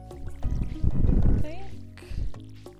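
Water splashes and pours from a watering can onto crops in Stardew Valley, a short wet burst against background music, with a voice speaking over it.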